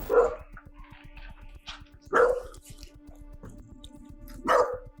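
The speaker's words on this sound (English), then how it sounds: "a dog started barking" A dog barks three times in short, loud bursts spaced a couple of seconds apart, with a steady low hum and faint rhythmic ticking running underneath between barks.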